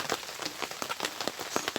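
Rain patters on a tent at a rainy campsite, a steady dense drumming with irregular louder drops and no voices.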